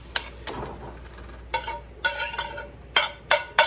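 Baked squash mixture is scraped and spooned into a baking dish in several soft, wet plops and scrapes, close up with no talking.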